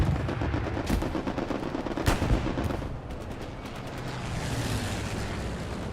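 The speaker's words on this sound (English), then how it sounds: "No, it's a bomber run." Bomber-run explosions and gunfire in the WWII shooter Hell Let Loose during a competitive 49v49 match in Hurtgen Forest, with dense rapid rifle and machine-gun fire and sharp blasts, easing into a rumbling wash of distant fire.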